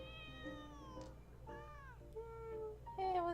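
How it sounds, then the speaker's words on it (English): A cat in Genshin Impact meows several times in a row, clear, tonal and close, with short gaps between the calls and no talk over them. "I don't think he's actually translating what the cat's saying."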